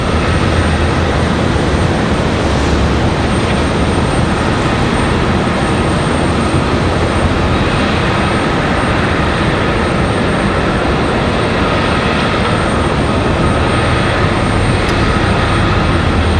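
Continuous broadband roar of aircraft around Raleigh-Durham International Airport on a stormy day, with planes including a Boeing 777-300 and a Lufthansa A380 arriving, a steady loud rumble that holds for the whole stretch without talk.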